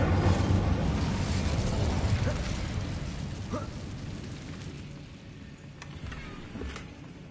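Incendio fire spell cast in the video game Hogwarts Legacy, a loud roaring whoosh of flame that dominates the start and slowly fades over several seconds, with a few brief crackles and pops near the end.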